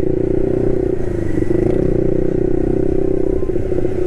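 A motorcycle engine hums steadily up close while riding through a crowded traffic jam, its hot engine droning at an even pitch with light clatter and faint surrounding traffic.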